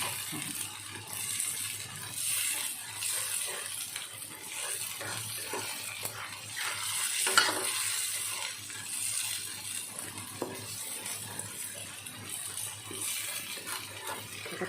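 Crickets fresh from the farm, boiled with lemongrass and kaffir lime leaves, fry in a pan while being stirred, giving a steady, dense, close hiss throughout.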